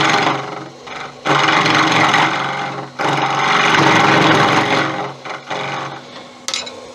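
Acacia wood spins on a lathe while a gouge cuts it: loud, rough scraping bursts of a few seconds each, broken by brief lulls where the tool lifts away, with a motor hum underneath.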